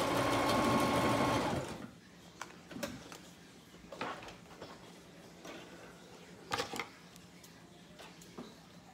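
A sewing machine stitches trim onto clothing in a close, loud burst lasting under two seconds. After it stops, scattered soft handling clicks and rustles of fabric follow in a quiet room.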